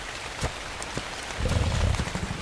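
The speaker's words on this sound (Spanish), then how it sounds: "Siempre pasa que se pone a llover" Steady rain in the video game ARK patters over everything, with a denser rumble of heavier drops building partway through.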